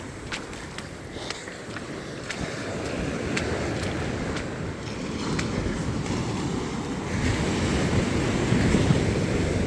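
Surf washing onto the shore on a coastal walk between Gilfach and New Quay, a steady broadband rush of waves with wind noise on the microphone, growing slightly louder toward the end.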